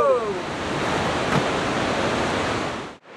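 Great Falls on the Potomac River roars as a steady, dense broadband rush of falling water, close and loud, with a brief drop near the end.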